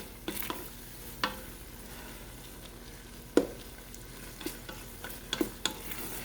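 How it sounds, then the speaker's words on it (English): Ham and pasta with peas simmer gently in a light cream sauce: a quiet, steady low bubbling broken by scattered sharp clicks and taps from a utensil or pan. "let them simmer just a bit."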